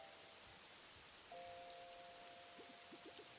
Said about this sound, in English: But I'm thankful that it's raining.